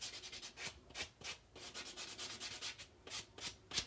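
A sandpaper nail buffer rubs across a fingernail in quick, repeated strokes, each a short bright scratchy swipe in an uneven rhythm, close up and quiet with no voices.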